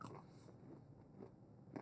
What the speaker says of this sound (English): as I chew on this nugget